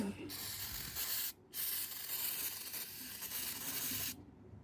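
Water sprays in a loud hissing stream to rinse a part from a Homelite UT08572 30cc leaf blower, in two bursts split by a brief pause before stopping abruptly.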